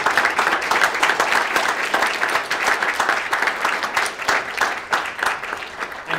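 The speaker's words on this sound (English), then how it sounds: "So a round of applause for all of our candidates." An audience at an all-candidates federal election debate in Burlington, Ontario gives steady, dense applause that holds at an even loudness for several seconds without pause.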